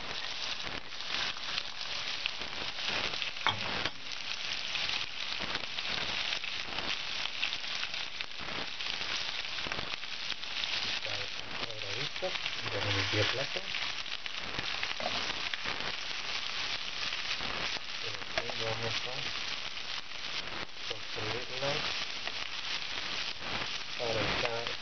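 Diced garlic cloves and onion fry in a pan for beef liver with onions, giving a steady crackling sizzle with popping spatter that runs the whole length, fairly close and even, without talk.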